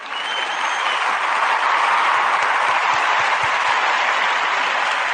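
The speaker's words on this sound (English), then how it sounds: "let me give you a clap because you deserve it" Steady applause from a church congregation at a Valentine's Day service on love and marriage, a dense, even wash of many hands clapping that swells in and holds at full strength throughout, with no talk over it.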